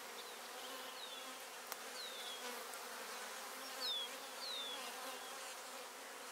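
Honey bees buzz softly and steadily in a hive during a frame inspection, a faint continuous hum with a few brief closer passes rising out of it, no talk.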